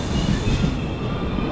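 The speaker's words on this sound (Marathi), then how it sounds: "आणि किती वाजता ही ट्रेन पोचली? जनशताब्दी." Janshatabdi Express train pulling into Thane station after a run from Kankavli in the Konkan rains, a steady close rumble of rolling wagons and wheels filling the whole stretch without pause.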